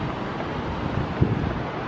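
Ocean waves and wind along the Pacific Grove coast in Monterey, California form a steady broadband rush with gusty microphone buffeting and one brief thump, no voices.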